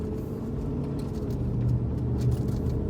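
A noisy truck drives toward Medoc Mountain State Park on a bumpy road, its engine a steady low rumble that swells slightly toward the end, with no talking.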